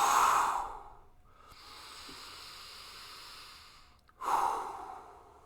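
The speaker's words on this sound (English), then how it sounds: "Strong exhale." Two strong, close breaths during a breathing exercise: a forceful airy exhale at the start and another after a quiet pause, with soft breath noise between and no talk.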